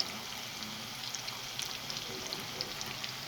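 Ginger pieces fry in hot oil for haleem, giving a steady crackling sizzle with scattered small pops, close and even throughout.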